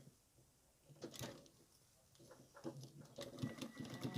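A sewing machine stitches lace onto a fabric waist apron. It runs in short, quiet whirring bursts separated by brief pauses.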